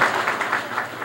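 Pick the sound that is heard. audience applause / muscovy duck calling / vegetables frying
audience applause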